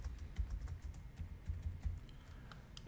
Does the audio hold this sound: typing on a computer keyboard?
yes